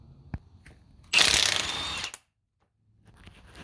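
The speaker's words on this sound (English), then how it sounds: "remove the axle nut with that 22mm" A power tool whirs for about a second while a 22mm socket removes the axle nut on a Subaru Outback, with a few light metallic clicks and knocks before and after, close and clear, no talking.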